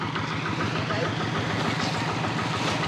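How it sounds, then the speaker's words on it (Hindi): Small tractor engine running in a rice field in Sri Lanka, a continuous low rumbling chug with a steady pulse, fairly close and constant. "छोटा सा ट्रैक्टर, छोटी सी मशीन है"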